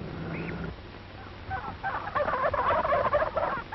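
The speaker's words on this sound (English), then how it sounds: "He hears a turkey gobbler who flew over the fence of the turkey yard." A turkey gobbler loose outside the turkey yard on a 1937 poultry farm lets out rapid, warbling gobbles in the latter half, fairly close, after a quieter stretch of farmyard bird noise, with no talking.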